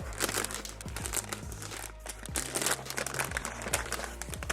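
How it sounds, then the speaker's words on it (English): Plastic crinkles and rustles steadily as the plastic bag of an LED strip light kit is handled and pulled open, close by with continuous crackling throughout. "So let's open up this bag."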